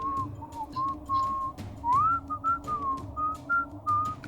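Melodic whistling in a series of short sliding notes with brief pauses, fairly clear over a low background rumble.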